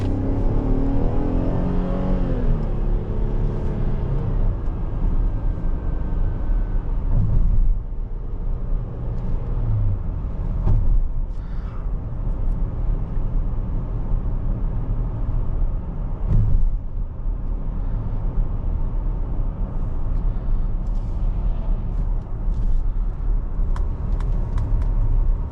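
A 2022 Chevrolet Traverse Premier SUV with a V6 engine drives on the road, its steady engine drone and road roar continuous and fairly loud throughout, with brief revving surges and no speech.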